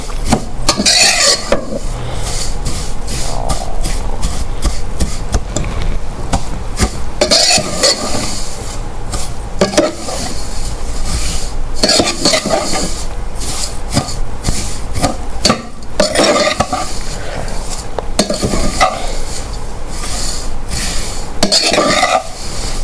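Vermicelli roasting in a pan for sweet Eid sevaiyan, stirred steadily with repeated scraping and clinking of a spoon against metal under a continuous dry sizzle, close and fairly loud with no talking.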